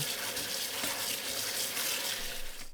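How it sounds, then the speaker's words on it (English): Tap water running steadily over drained mushrooms being rinsed in a kitchen sink, a continuous close splashing rush that stops abruptly at the end. "Drain the mushrooms, rinse them."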